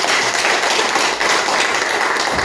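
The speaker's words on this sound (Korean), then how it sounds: "아니, 다시 박수로 참여." A church congregation claps at a mission report service, giving a continuous, busy round of many hands applauding close by with a few heavier taps mixed in.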